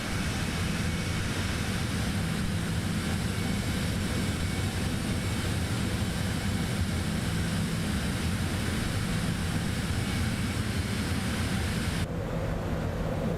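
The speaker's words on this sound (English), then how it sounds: "let's drop our gear" Landing gear lowers on a Cessna Citation X business jet on approach in MSFS 2024, heard as a constant loud cockpit and engine roar with a broad rumble that cuts off sharply near the end.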